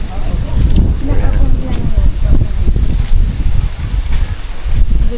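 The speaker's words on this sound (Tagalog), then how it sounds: "Wow, mahangin guys." Strong wind roars steadily across the microphone, a loud continuous rumble with gusty rustling throughout.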